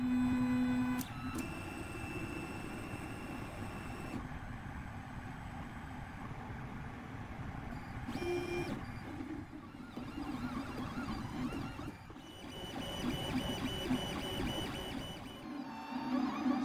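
An Anet ET5 X 3D printer runs a print job with whining stepper-motor tones and shifting mechanical hum, punctuated by a few short beeps, heard close and steady throughout.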